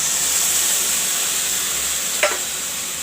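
Masala paste with turmeric powder sizzles steadily in a pan over browning onions for an egg curry, with one brief clatter of stirring near the end.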